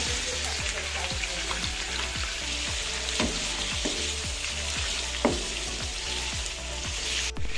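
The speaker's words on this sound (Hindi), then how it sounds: "ऑयल अच्छे से गर्म हो चुका है, इसमें हम चिकन डालेंगे और इसे गोल्डन फ्राई करेंगे, गोल्डन ब्राउन, मीडियम फ्लेम पे।" Chicken pieces fry in hot oil over a medium flame, a steady, loud sizzle with rapid crackling pops throughout and no talking.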